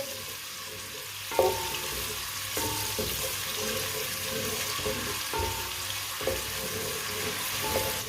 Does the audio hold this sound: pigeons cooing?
no